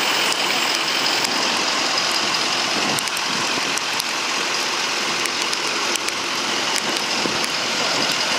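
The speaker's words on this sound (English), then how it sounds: "it's just a little rain shower." Steady rain shower in Brooklyn, New York, a dense continuous hiss of falling drops splashing on surfaces, with occasional louder drips and faint traffic in the background, no voices.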